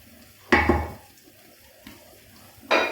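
Chicken being stirred in a cooking pot (kadhai), with a few sharp clanks and scrapes of a spoon against the metal, heard up close in short separate bursts.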